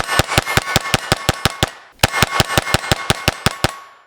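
Rapid strings of close, loud .22 pistol shots from a Sig P322 and a Taurus TX22, two evenly spaced bursts of about ten sharp cracks each, split by a short pause, with no talking.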